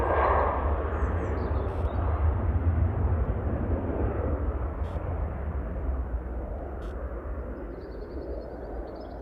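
An Etihad airliner departing Manchester Airport, a broad, steady jet roar that is loud at first and slowly fades as it moves away, with no talk over it.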